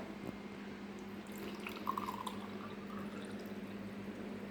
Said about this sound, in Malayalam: ഇപ്പോൾ നമ്മൾ അതിലേക്ക് വെള്ളം ഒഴിക്കുകയാണ്.